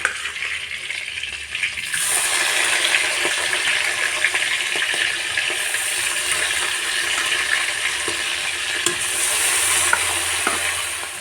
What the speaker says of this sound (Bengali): এবার বাকি মাছগুলোও ভেজে নেব